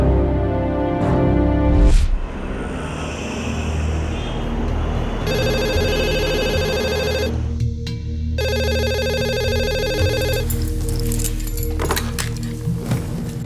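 A telephone rings in a tense indoor drama scene, with two long electronic ringing bursts separated by a short pause, loud and close over a low musical background.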